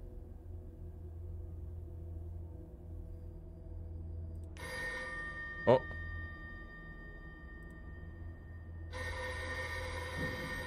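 A ringing phone in the ghost-hunting video game Poltergeist Watcher: a short bright chime over a low ambient drone, with a brief voiced exclamation and quiet room tone around it.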